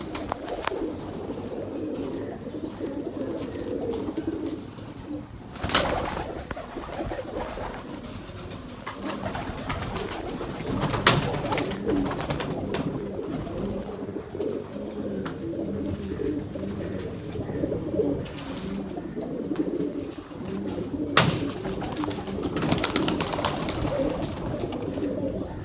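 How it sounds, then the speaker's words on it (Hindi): Ferozpuri Saleti pigeons coo in soft, low, throaty repeated calls, with a few rustles and sharper knocks nearby, steady over a light background. "तो मैं एक और कबूतर का शो करवाता हूँ आपको।"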